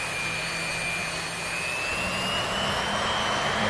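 A jet engine runs at full power in the DCS flight simulator game, making a loud, steady roar with a high whine that slowly rises in pitch.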